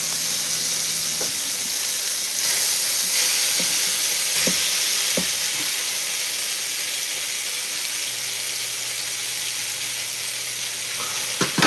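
Chicken for marry me chicken fries in a pan with a steady, bright sizzle, close and even throughout, broken by a few soft scrapes and taps, with no voices.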